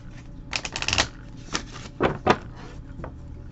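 Tarot cards are shuffled close by in several quick riffling bursts, separated by short quiet gaps.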